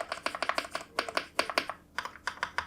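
Mechanical key presses on a Keychron V6 Ultra 8K full-size hot-swap keyboard, a quick irregular run of crisp clicky taps with brief pauses, close and clear with no talking.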